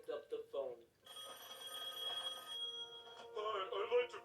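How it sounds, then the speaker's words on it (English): A telephone rings in a SpongeBob cartoon episode, a steady electronic bell tone lasting about a second and a half between bursts of voices, with cartoon speech before and after the ring. "out of the blue, the phone rings"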